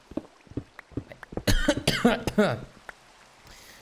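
A close, loud burst of coughing with a rough, phlegmy throat clearing, surrounded by quiet clicks and shuffling.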